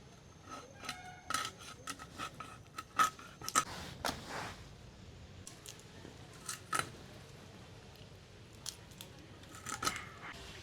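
Large bata fish are cut into halves, making faint, scattered crisp snips and clicks with short pauses between them in a quiet room, with no talk.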